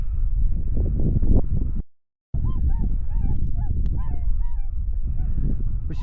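Geese honk repeatedly over a steady windy rumble during a goose hunt in Yakutia, several nasal calls close together, after a brief dropout in the sound.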